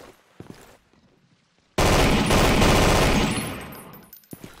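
An MG34 machine gun in a Call of Duty-style video game rips off a long, loud continuous burst that starts abruptly and tapers away, after a few quiet footsteps and clicks.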